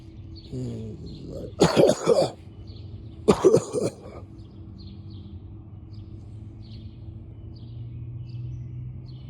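Two muffled coughing fits sound a few seconds apart, dull and somewhat distant as if behind a wall, with faint chirps in a quiet background.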